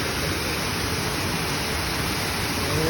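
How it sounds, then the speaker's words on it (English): A big waterfall on the Hassen Creek Nature Trail gives a loud, steady, broadband roar heard up close, with no voices. "here is a nice big waterfall here at the tail end"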